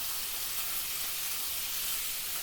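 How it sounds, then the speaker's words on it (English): Chicken and pear tagine cooks in a pot with a continuous even hiss of sizzling and steam, steady and close, with no distinct stirring strokes. "Giving it a stir now."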